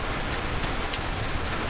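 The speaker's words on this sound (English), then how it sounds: "it's raining hard outside and thundering" Heavy rain roars outside in a dense, steady hiss with no break, close and loud; thunder is not distinct.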